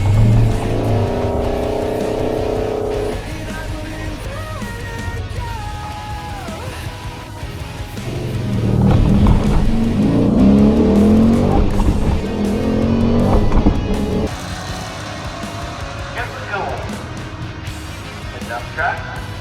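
A car launches off the line at a drag strip on a track day, its engine roaring and revving with a squeal of tires that swells and then fades. People talk over the noise.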